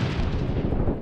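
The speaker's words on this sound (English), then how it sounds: "toss a grenade in there" A grenade detonates in the Six Days in Fallujah video game, a single loud, deep boom that fills the whole second with a rumbling blast and no voices over it.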